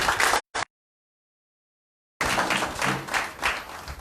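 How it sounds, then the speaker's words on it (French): Women in a crowd at a political outreach gathering in Bouaké clap in a short burst, cut off abruptly, then after a silent gap a fuller round of applause returns, moderately loud with some voices mixed in. "applaudissez pour les mamans"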